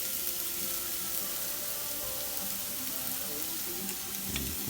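Half a small white onion sizzles and fries in a couple of tablespoons of hot oil in a pan, a continuous close crackle with faint stirring and scraping and no talk.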